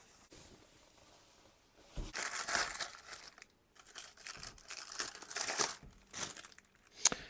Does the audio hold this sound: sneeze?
no